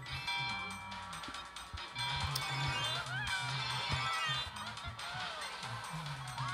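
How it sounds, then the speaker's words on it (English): A television plays in the background of a room, giving a mix of voices, tonal music and effects at moderate, fairly steady loudness. "I don't know if y'all can hear my TV in the background"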